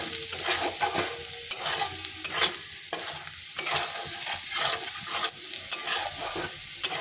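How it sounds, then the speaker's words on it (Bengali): Garlic fries in a pan for a chicken curry, a constant crackling sizzle broken by frequent scraping strokes of a spatula, close up and without voices. "রসুনটা ভাজা প্রায় হয়েই গেছে"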